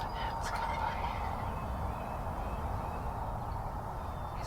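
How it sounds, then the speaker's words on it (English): A wild turkey gobbles away in the Michigan woods on a spring hunt, its rattling call carrying in the first second over steady outdoor background noise, then fading into a lingering hush. "He's just gobbling away."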